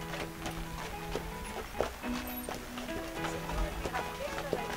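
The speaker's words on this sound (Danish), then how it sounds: "at de tager sig en tur med hestevognen" Horse hooves clip-clop at a walking pace on a horse-drawn carriage ride through an open-air museum, steady repeated beats under faint voices and background sounds.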